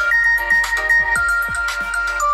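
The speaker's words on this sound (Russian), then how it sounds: "Хотелось бы проверить, как звучит основной динамик у телефона." Ringtone from an OUKITEL C21 smartphone's main speaker at full volume, a bright repeating electronic melody with quick plucked notes and a sustained tone, slightly tinny, heard alone and close.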